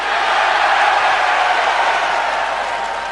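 A large wrestling arena crowd roars and cheers in a loud, sustained wash of noise that fades slightly toward the end.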